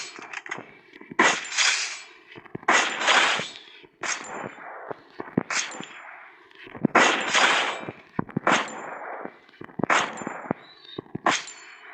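Gunshots in a mobile shooting video game: sharp, fairly loud bursts of fire in irregular clusters with short gaps between, some quick single cracks and a few longer volleys, no talk over them.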